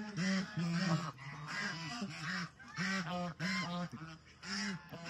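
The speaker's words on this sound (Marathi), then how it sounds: "स्वॅन बघा, फुल साईज मध्ये स्वॅन आहेत" Geese, ducks and swans, including full-size white and brown swans, honk loudly and repeatedly in close, overlapping rhythmic bursts on a bird farm.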